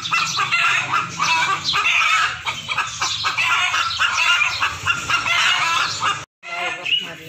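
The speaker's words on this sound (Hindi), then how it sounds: "ये देखिए, ये हमारी मुर्गी अंडा देने बैठी है।" A hen sits to lay an egg and keeps up a busy run of close, chattering clucks and cackles, with other fowl mixed in and a voice talking under them.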